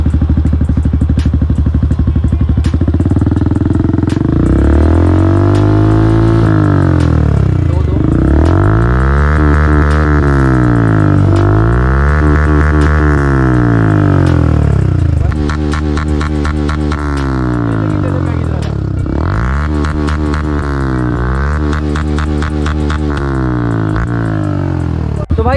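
A Bajaj motorcycle fitted with an Akrapovic R1M aftermarket exhaust idles in neutral with a loud, steady, deep burble, and the revs rise and fall in several swells.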